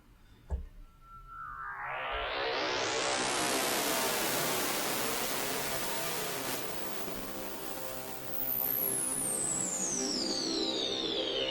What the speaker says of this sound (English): This sounds really cool with some delay on it.